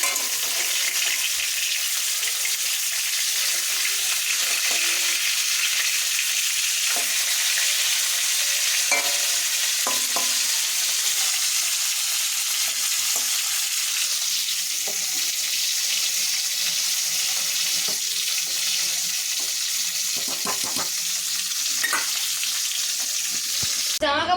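Fish pieces frying in hot oil in a pan after being turned over, with a continuous loud, even sizzle and hiss running throughout, broken only by a few faint clicks.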